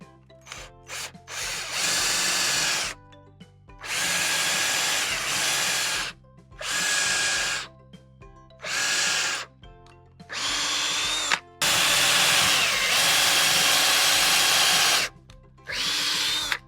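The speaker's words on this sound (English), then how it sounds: "It's time to drill!" A power drill with a 5/32 bit whirs in repeated bursts of a few seconds each, separated by short pauses, close and loud as it bores into wall studs.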